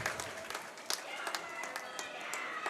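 Spectators at a women's high school swim meet cheer and applaud as a swimmer finishes a freestyle heat, a steady wash of distant crowd noise and clapping in a pool hall.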